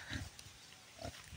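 A sow that recently farrowed gives a couple of short nasal grunts close by, separated by a brief quiet gap, with no talking.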